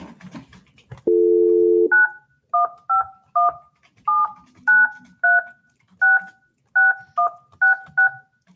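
A telephone dial tone sounds briefly, then a steady sequence of about a dozen crisp, evenly spaced dialing beeps as a phone call is placed, clear and alone.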